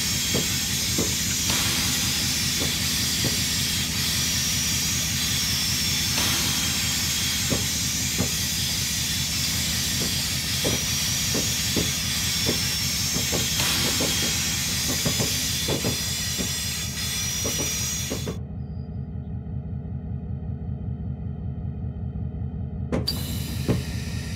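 In Train Simulator 2018, a B&O GP30 diesel locomotive on the Kingwood line has its loco brake applied, giving a loud, sustained air hiss over a low engine drone and light rail clicks, ending in a brief cut-out.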